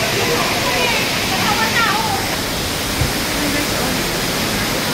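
Strong, fast-flowing water at Parque de Europa gives off a constant, loud broadband rush, like a waterfall or fountain, close by and steady for the whole stretch, with no one speaking over it.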